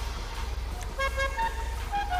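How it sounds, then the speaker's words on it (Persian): A car horn in a GTA video game toots several short times over a dense hum of game traffic and engine noise, moderately loud and close. "اینجا میرسیم به بحث"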